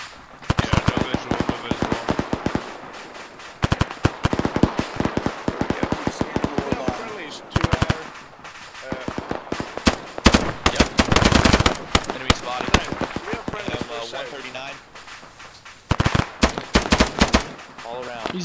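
Dense bursts of automatic and single gunfire in a military video game, loud and rapid in clustered volleys with brief gaps, while voices talk over the shooting.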